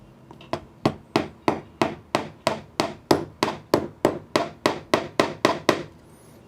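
A small hammer taps a track pin into N scale model railroad track, about eighteen sharp, evenly spaced close strikes in a steady quick rhythm with no talking.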